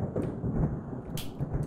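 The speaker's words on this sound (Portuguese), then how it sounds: "tá trovejando no game" Thunder in the Baldi's Basics video game rolls as a low, sustained rumble with a brief crackling burst partway through, moderately loud and without speech.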